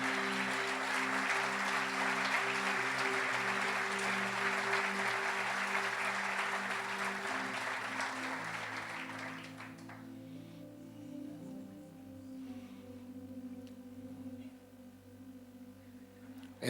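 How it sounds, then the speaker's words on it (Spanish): A church congregation claps in praise to the Lord over sustained keyboard chords. The applause is thick and steady for about nine seconds, then fades out, leaving the soft instrumental music playing alone. "Dale un aplauso al Señor."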